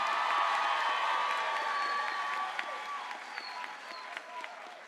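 A graduation ceremony audience for the class of 2025 applauds and cheers in a large hall, a dense wash of clapping with whoops and shouts that gradually thins toward the end.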